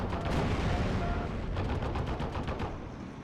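Machine gun fire in the World War II strategy game Steel Division: Normandy 44, dense rapid bursts rattling continuously for a few seconds at steady volume.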